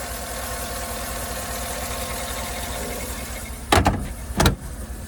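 A 2013 Cadillac Escalade Platinum's 6.2-liter Vortec V8 idles with a steady low rumble, then two sharp clunks or bangs ring out near the end.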